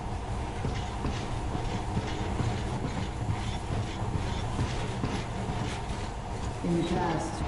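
A monorail train in the video game Metro Last Light rolls along with a steady rumbling, rattling drone and faint rhythmic clatter, continuous and fairly loud, with a brief squeal near the end.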